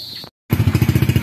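A Rusi Surf 125 motorcycle engine, freshly overhauled, idles close by in a quick, even putter that resumes after a short silent gap.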